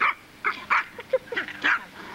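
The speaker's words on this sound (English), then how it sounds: "She's getting the puppies now." Several puppies yip and bark in short, irregular bursts at close range amid a busy gathering with friends, with light human chatter mixed in.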